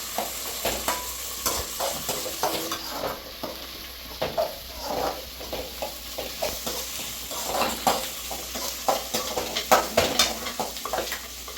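Shallots, dried red chillies and curry leaves fry in a pan for Sinthamani chicken, sizzling steadily while a spoon scrapes and clinks against the metal in an irregular stirring rhythm, up close, with no voices.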